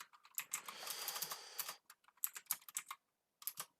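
Quiet, close typing on a computer keyboard: a quick run of clustered keystrokes, then scattered individual taps with brief gaps, heard alone.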